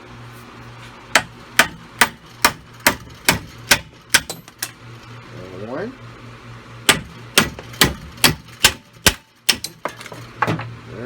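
A hammer drives old wheel studs out of a Yamaha Rhino 660 rear hub with sharp, evenly spaced metallic strikes, two runs of about eight blows separated by a short pause, and a voice briefly counting in between.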